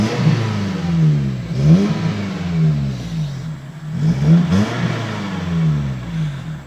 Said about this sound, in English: let's start it up a little bit so you can hear the engine